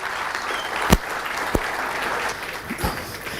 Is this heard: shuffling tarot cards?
no